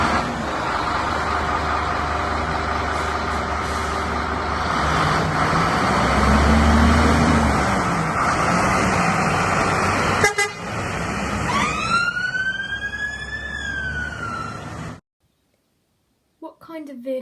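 A fire engine drives past with a loud, steady engine rumble, then its siren sweeps up in rising wails near the end before the sound cuts off.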